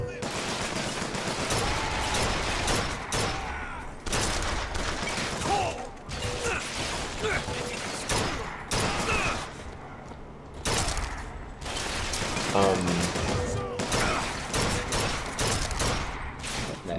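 Gunfire and clanking mechanisms in the video game Bioshock Infinite, with bursts of shots and mechanical clatter repeating throughout, heard beneath people talking.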